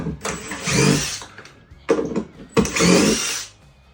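A power drill backing screws out in an ensuite bathroom, three loud close whirring bursts of about a second each separated by brief pauses.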